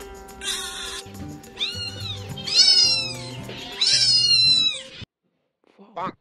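Loud, close cat meows come in a run of drawn-out, whiny calls, then break off into silence before a brief faint sound.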